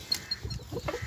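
An Aseel rooster clucks in a low, soft run of short, close clucks over a second, with light background noise.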